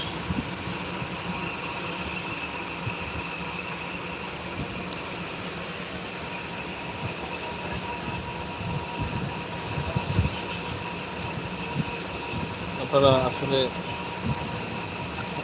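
Inside a moving passenger train, a low, steady rumble and hum persist throughout, with faint rattles, while someone talks over it.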